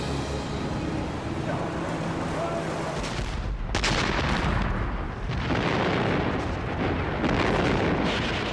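German artillery guns firing at Anzio in 1944, heavy booming blasts over a constant dense roar of battle, one sharp loud report standing out midway.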